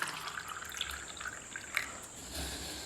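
Water is poured in a faint, thin trickle into an alginate waste mold, with soft dribbling and a few small drips in a quiet room.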